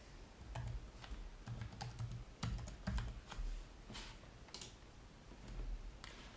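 Typing on a computer keyboard while entering an email address, a steady run of close, crisp key clicks in uneven bursts with a few heavier strokes, alone without speech.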